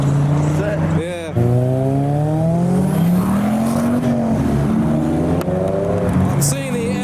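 A Ford Transit Connect ST with a 2.5-litre five-cylinder turbo drives by on a street, its engine note rising and falling loud and close, with people talking over it.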